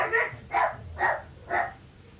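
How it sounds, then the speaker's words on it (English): Neighbourhood dogs bark outdoors at some distance, four evenly spaced barks about half a second apart, moderately loud and with no talk over them. "for some reason all the dogs in the neighbourhood seem to be barking"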